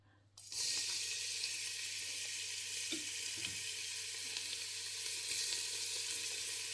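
Garlic hits hot oil in a pan and sizzles loudly and steadily from a sudden start, a dense bright crackle that stays even throughout with a few small clicks of stirring.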